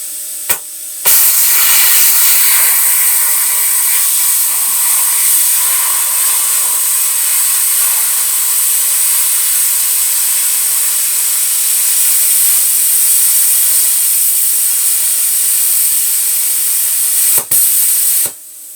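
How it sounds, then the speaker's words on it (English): A YesWelder CUT-55DS plasma cutter slices through metal with a loud, steady hiss that runs unbroken for about sixteen seconds. It starts and stops abruptly. "This is my first ever cut with a plasma cutter."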